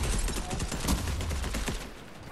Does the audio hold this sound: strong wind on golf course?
no